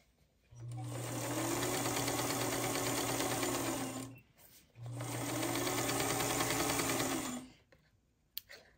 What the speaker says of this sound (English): I can take this center square and I can sew a rectangle